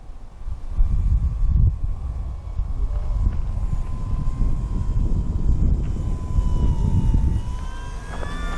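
FMS Ranger 1800mm high-wing RC trainer airplane flying overhead, a thin steady electric motor drone against gusty wind buffeting the microphone, moderately distant and continuous, with a pitch shift near the end.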